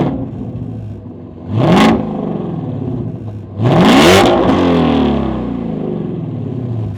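A Ford Mustang GT350's Voodoo engine revs hard twice through an MRT straight-pipe exhaust with no mufflers, each loud, rowdy blip rising and falling, the second longer, then settling back to a rumbling idle.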